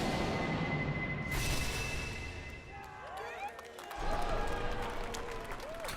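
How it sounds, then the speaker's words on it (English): A live audience claps and cheers in a large hall during the Summer Game Fest 2023 showcase, a broad wash of applause that continues steadily throughout, with no speech. "Why are people clapping?"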